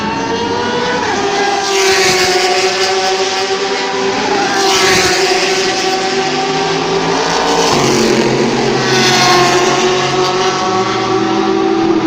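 A Ford race car during the Le Mans 24 Hours test day, a loud engine roar rising and falling as several cars sweep past in turn, with steady high engine tones and shifting pitch.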